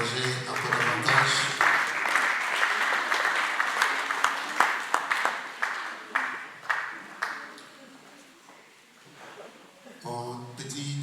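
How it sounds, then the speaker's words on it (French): An audience at a memorial gathering breaks into loud sustained applause with scattered clapping and cheering, fading into separate claps before a brief swell of clapping at the end. "On peut acclamer pour les encourager encore davantage."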